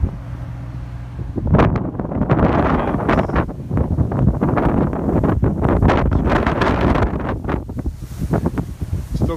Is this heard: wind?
yes